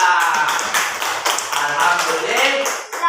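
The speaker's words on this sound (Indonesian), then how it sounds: "Tepuk tangan kepada kelompok 1," Classroom applause for groups of students after a lesson activity: dense, steady clapping from many hands fills the whole moment, loud and close, with a few voices mixed in.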